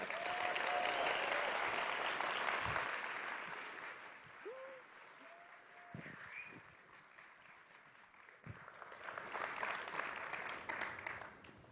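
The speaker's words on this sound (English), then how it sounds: "So let's give them a big round of applause." Audience at the Techstars Atlanta Demo Day applauding, a broad wash of clapping that fades midway, then rises again toward the end, with brief tones and thumps scattered through the quieter stretch.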